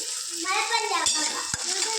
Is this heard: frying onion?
yes